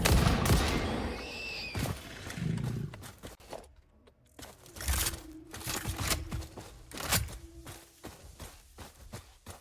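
Rifle gunfire from the factory-building video game Satisfactory: sharp broadband shots scattered across the clip, some in quick clusters, mixed with footsteps and other game effects, with no talk.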